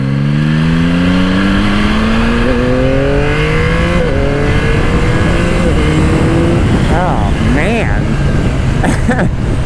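A 2025 Yamaha YZF-R9 three-cylinder motorcycle engine revs up and climbs through its gears with a low, throaty growl, loud and close, rising in pitch through the run.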